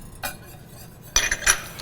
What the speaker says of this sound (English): just use the whisk to blend it in evenly and quickly